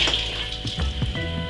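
Water, the second 1.5 litres for a wild strawberry mead, pours steadily into a vessel, a loud close rushing splash that lasts the whole brief moment with no talking.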